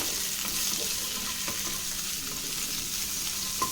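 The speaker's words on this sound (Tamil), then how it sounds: "இப்போ இந்த குடமிளகா இதை போட்டு ஒரு வர வதக்கு வதக்கிக்கலாம்" Capsicum (bell pepper) sautéing in a pan, a steady close, even sizzle and fry hiss with faint stirring scrapes, no voices over it.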